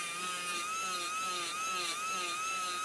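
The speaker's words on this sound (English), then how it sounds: "Zest recommends using these on low speed in a continuous and smooth motion, just providing some final polishing procedures for the cameo surface of the complete denture" Low-speed dental handpiece spinning a polishing burr across the cameo surface of a complete denture gives a steady, thin high-pitched whine that wavers slightly in pitch, continuous and close throughout.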